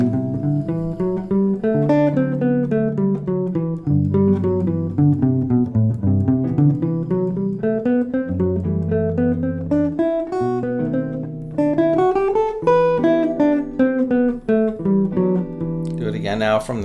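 A guitar plays an Aeolian scale melody from a song over a chord backing track, with steady, clear single notes on top of sustained chords moving in time and loud throughout.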